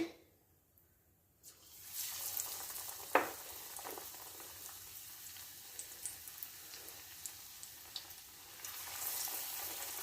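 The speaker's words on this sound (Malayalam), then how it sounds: "നല്ല എണ്ണ തിളച്ചിട്ടുണ്ട് നമുക്ക് ഈ സാധനം ഇട്ട് കൊടുക്കാം" Slices of raw banana dipped in batter for bajji drop into hot oil, and the quiet pan bursts into steady sizzling and crackling with scattered pops that carry on to the end.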